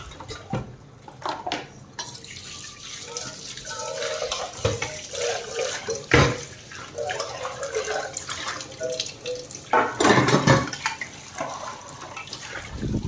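Tap water runs into a sink while dishes are washed, a steady wash of flow broken by splashes and clinks that swell and fade over the span, with no voices.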